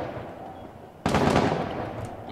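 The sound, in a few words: gunfire in the video game Rainbow Six Siege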